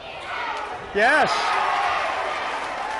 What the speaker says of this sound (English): East Catholic is making some nice plays right now. Their crowd is into it.